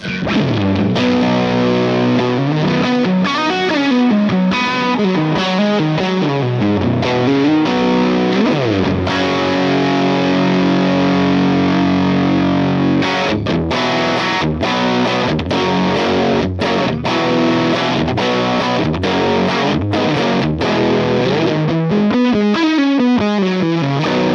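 Distorted electric guitar played through a Helix model of a vintage Gibson EH-185 amp, thick chords and riffs ringing loud and continuous.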